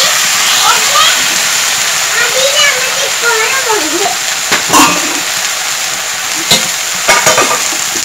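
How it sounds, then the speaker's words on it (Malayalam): Salt water poured into a pan of brinjal stir-fry, setting off a loud, steady sizzle and hiss that runs the whole way, with a few sharp stirring knocks near the end. "ഞാനിവിടെ ഉപ്പ് നീരാണ് ഒഴിച്ചു കൊടുക്കാൻ പോകുന്നത്"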